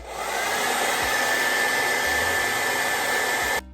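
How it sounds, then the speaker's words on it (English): A hair dryer blows steadily at close range while drying a wig, a constant airy whine with a few soft handling bumps before it cuts off abruptly. "You may want to like kind of press it down with a comb as you're blow drying it"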